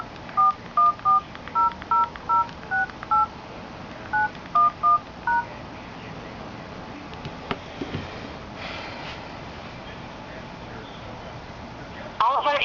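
Telephone keypad tones entering a 13-digit traffic violation number into an automated phone line, a quick run of thirteen short, clear beeps in uneven rhythm, followed by faint line hiss and soft handling noises.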